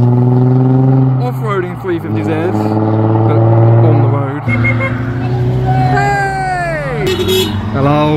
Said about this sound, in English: Off-roading 350Z, but on the road.